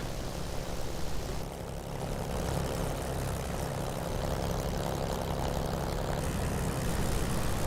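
A propeller aircraft taxiing for takeoff in a flight simulator game, its engine holding a steady, even idle-like drone with a low rumble throughout and no voices.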